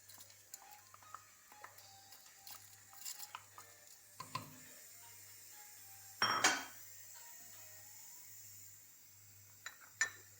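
Lentils roast in a pot for Moroccan harira, with soft scraping stirs, light metallic clinks of a utensil against the pot and a faint sizzle, a few sharper knocks scattered through a quiet kitchen.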